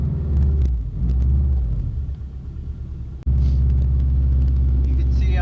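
A Subaru STI with a six-speed manual gearbox rolls along a wet road, its low engine and road rumble steady and loud throughout, with a brief dip partway through.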